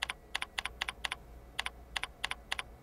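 Someone types a username and password on a computer keyboard, producing crisp close key clicks in quick pairs and short bursts with brief pauses between them.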